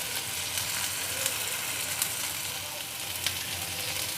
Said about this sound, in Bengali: টমেটো কুচি দিয়ে আবার একটু নাড়িয়ে নিচ্ছি।